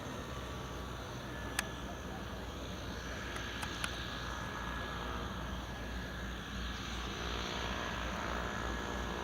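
A Global Airlines Airbus A380 starts its takeoff roll at Glasgow Airport, heard from a distance as a steady, broad jet roar that builds slowly, with a few faint clicks and a little background chatter.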